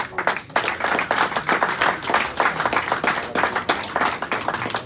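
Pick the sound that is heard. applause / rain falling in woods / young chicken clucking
applause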